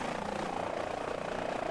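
An H-145 helicopter in flight during a firefighting mission in Microsoft Flight Simulator 2020 produces a steady, loud, even rotor-and-turbine drone that fills the moment without pause or speech.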